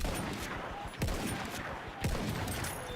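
The Russian 1895 rifle fires in Battlefield 1 amid a dense wash of distant battlefield gunfire, with two sharper, louder shots about a second apart standing out.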